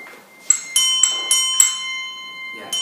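Desk bells pressed at a prize draw, several bright ringing dings in a row, each leaving a sustained metallic tone that lingers, with quiet room ambience around them.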